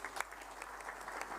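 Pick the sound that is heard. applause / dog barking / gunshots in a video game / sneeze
applause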